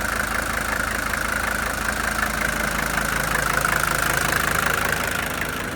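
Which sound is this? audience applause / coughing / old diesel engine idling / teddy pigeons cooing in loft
old diesel engine idling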